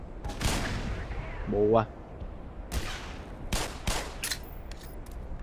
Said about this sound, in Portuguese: Eu não sei porque eu tô atirando aqui.